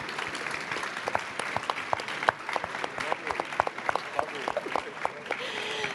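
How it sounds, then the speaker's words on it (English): A panel audience at a desertification and biodiversity session claps steadily for several seconds, individual hand claps standing out over a moderate, fairly close wash of applause. "Please give them an incredible warm round of applause."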